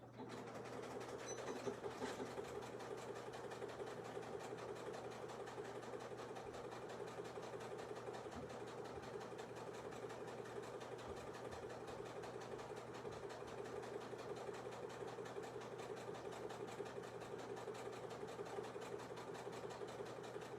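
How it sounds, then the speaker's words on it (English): A sewing machine stitches a beginner's mini tote bag, running at a steady, continuous buzzing whir for the whole stretch without pause, with a low hum underneath. "So I'm gonna go to the sewing machine and stitch that across"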